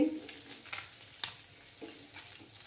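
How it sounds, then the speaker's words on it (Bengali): Tangra fish fry in hot oil with a continuous close sizzle and crackle, punctuated by a few sharp spatters and stirring scrapes, with no voices over it. "আরও কিছুক্ষণ ফ্রাই করে নেব"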